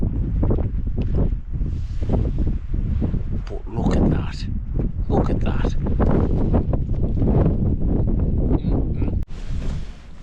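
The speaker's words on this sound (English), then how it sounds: "the fog is blown across because it's windy" Strong wind roars and buffets the microphone continuously, gusting loudly, while someone speaks over it, on a foggy hilltop summit in England.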